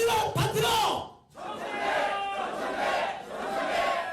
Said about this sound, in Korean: 이기자 하면 청래야라고 한번 외쳐주시면 감사하겠습니다